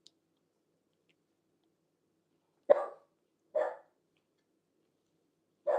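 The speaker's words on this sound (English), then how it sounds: "dogs are going mental. It's something outside" A dog barks at something outside, three sharp isolated barks spaced about a second apart in an otherwise quiet room, fairly close and moderately loud.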